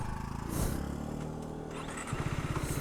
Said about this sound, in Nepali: स्कुटर चाहिँ कुदाएको हो यार